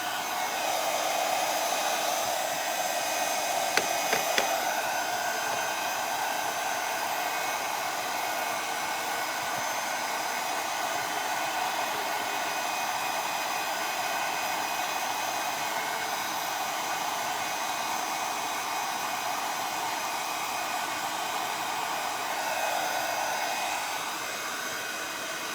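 A hair dryer blows steadily and close by for the whole stretch, a continuous even whoosh drying chalk paste on a glass vase candle holder, with no talk over it.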